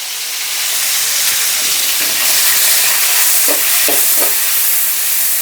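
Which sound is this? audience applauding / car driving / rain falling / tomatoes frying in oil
tomatoes frying in oil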